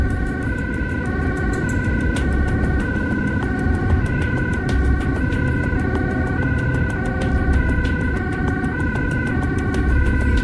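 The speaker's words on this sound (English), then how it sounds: "they cleared the road for the ambulance" Ambulance siren wailing steadily through Amsterdam rush-hour traffic, a loud, continuous repeating tone pattern over a dense rumble of road noise.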